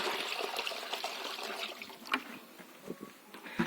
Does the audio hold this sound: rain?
no